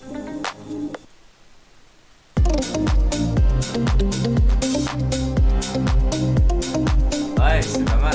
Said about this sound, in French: Deep House, tac, on va écouter ça tout de suite.